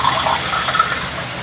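A small amount of water poured into a cooking pot for fish paksiw, a steady close splashing stream that runs continuously for the whole moment with no talk.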